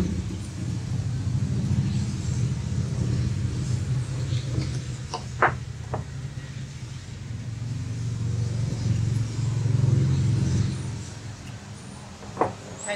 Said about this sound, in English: Sorry for all the traffic noises.